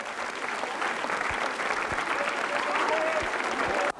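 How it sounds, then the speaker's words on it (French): A circus audience at a gala show applauds loudly and steadily, a dense wash of clapping from a large crowd that fills the whole stretch before cutting off. "On les applaudit très fort."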